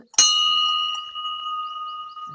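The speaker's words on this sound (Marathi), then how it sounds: "हे बघा आणि आपण बेल वाजू" A bell at a Hindu temple of Shri Renuka Mata is struck once, sharp and close. Its metallic ring then hums on steadily, slowly fading over the following two seconds.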